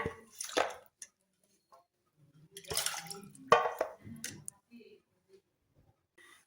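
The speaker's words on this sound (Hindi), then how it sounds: "अब इसको मैं पानी से निकालूंगी ताकि सारा पानी इससे निकल जाए अच्छी तरह।" Water drips and splashes off freshly washed chicken pieces as they are lifted out in a kitchen, coming in scattered wet bursts with pauses of near silence.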